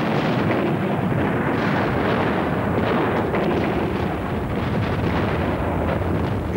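The naval guns of the USS Atlanta fire in a dense, continuous roar of deep booms and rumbling blasts, loud and unbroken for the whole stretch, with no voices over it.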